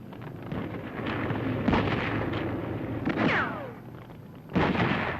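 4.2-inch mortars fire during WW2 combat in the Philippines near Cebu City, heard as a few heavy booming blasts with rumbling decay over constant low battlefield noise, with no speech.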